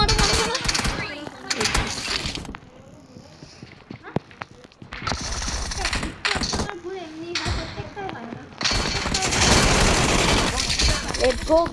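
Bursts of automatic gunfire in the battle game PUBG, several loud rapid volleys separated by short lulls, with excited players talking over the shooting.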